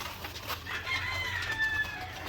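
A Blue Orpington rooster makes soft clucking sounds at a moderate distance, a short run of calls over a quiet farmyard background.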